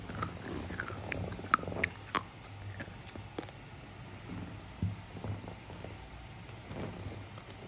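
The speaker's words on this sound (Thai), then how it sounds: "เคี้ยวใกล้ๆกล้องสิว่ามันดังนะ" Tanghulu, candied fruit on a stick, is chewed close to the camera, with crisp cracks of the hard sugar shell followed by wetter munching and smacking, close and fairly loud against a quiet room.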